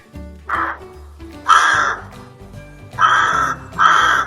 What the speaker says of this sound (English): Rook.